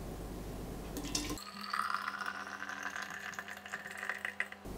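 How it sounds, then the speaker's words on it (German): Homemade vanilla sauce poured into a glass bottle, a soft liquid glugging and trickling with faint clinks of glass, close and alone after a brief burst of other noise. "dann nehme ich einfach mal eine Flasche und fülle das Ganze um"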